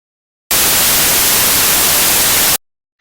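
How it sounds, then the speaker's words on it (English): Generated noise from a Pure Data patch recorded to file: a steady, dense static hiss running loud and unbroken for about two seconds, starting and stopping abruptly, with silence before and after. "And so we're recording quieter noise to the file."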